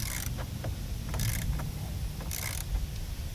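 The battery tray holder on a 2010 RAM 2500 is tightened with a ratchet, producing close, repeated clicking and creaking bursts over a steady low rumble, with no talking.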